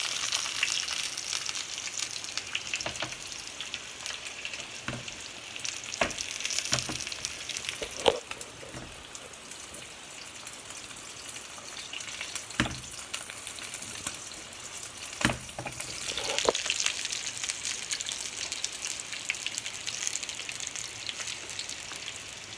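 Chicken taquitos fry in deep oil with a steady sizzling hiss that runs the whole time. A few sharp pops and crackles break through now and then.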